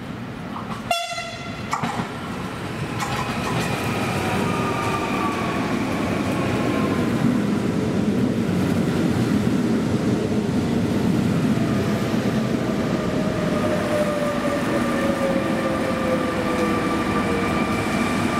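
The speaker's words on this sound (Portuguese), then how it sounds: "vai dar entrada na linha número 6" A passenger train pulls into a station platform at Pinhal Novo in Portugal, a brief horn sounding near the start before a steady loud rumble of wheels on rails and squealing brakes as the carriages roll in close by.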